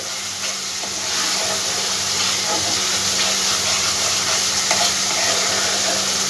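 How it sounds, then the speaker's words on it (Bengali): Ginger-cumin spice paste fries in hot oil for a Bengali fish curry, giving a steady close sizzle and hiss with faint stirring scrapes throughout. "ভালো করে মশলাটা একটু আমি ভেজে নেব।"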